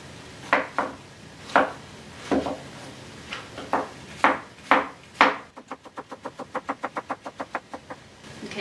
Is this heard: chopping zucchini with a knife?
yes